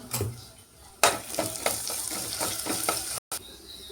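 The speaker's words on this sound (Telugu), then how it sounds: "ఉల్లిపాయలు బాగా వేగిన తర్వాత ఇందులోని కొంచెం అల్లం వెల్లుల్లి పేస్ట్ వేసుకొని బాగా కలుపుకోవాలండి" Onions fry in a pan while ginger garlic paste is stirred in for a prawn curry. A steady close sizzle runs under repeated scraping stirs, and a sharp clatter of the spoon against the pan cuts in partway through.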